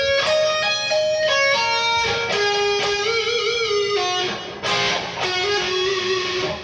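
A distorted electric guitar plays a fast lick from a solo: quick runs of notes, bends and a sustained emphasized note, loud and close with no voices.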